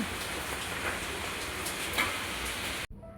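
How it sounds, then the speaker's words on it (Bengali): Steady heavy rain pours down, a dense broadband hiss that continues unbroken, then cuts off abruptly near the end, leaving quiet. "আজ বাইরে কীরকম অঝরে বৃষ্টি পড়ছে"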